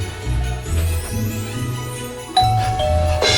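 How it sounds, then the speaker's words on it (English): A doorbell rings a single bright ding-dong chime partway through, over a steady low musical background in a festive Christmas scene, with no talking. "The bell."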